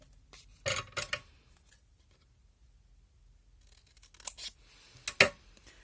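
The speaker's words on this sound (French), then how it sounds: "on va venir couper de l'autre côté" Scissors snipping through a paper envelope while making a small Christmas gift box, a few crisp close cuts in quick pairs, then a pause and another short burst of snips, with faint rustling of paper between.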